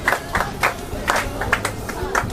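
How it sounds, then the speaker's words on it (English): A group of children at a camp visit to a vehicle maker clapping for a classmate: quick, uneven bursts of hand claps mixed with excited shouts, close and lively. "Clap for Gabriel."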